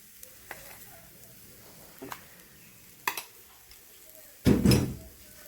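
Dried red chilies, a little chili powder and salt dry-roasting in a pan for chammanthi podi: sparse scraping and stirring clicks over a quiet background, then a louder rattling, sizzling burst near the end.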